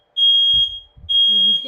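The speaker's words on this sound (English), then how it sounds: "And I apologize immensely for my alarm." Indoor smoke alarm going off: two loud, sustained high-pitched electronic tones separated by a short gap, with brief low bumps and a voice starting to talk near the end.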